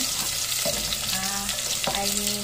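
Garlic and onion sauté in a hot pan with a loud, continuous sizzle. Scraping strokes of stirring land twice over the frying, and nobody talks.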